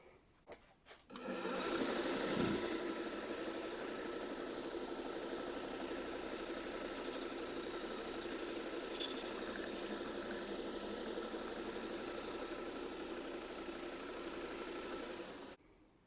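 Knife blade being worked on a finishing grinder during the repair of a broken tip, a steady close grinding whir running continuously for about fourteen seconds after a brief start, with no talking.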